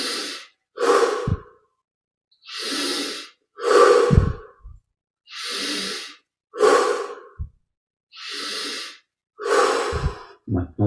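Deep, slow breaths during a meditation session, loud and close, with paired inhales and exhales repeating about every two to three seconds. Brief snort-like pulls come between some of the breaths, and nobody speaks.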